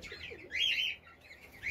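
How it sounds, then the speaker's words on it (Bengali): A baby pigeon chirps in short, high, squeaky bursts while being hand-fed, close and fairly soft, with no talking. "দেখো পাখিটা মা মনে করে কিরকম করে খাচ্ছে আমার মুখ থেকে"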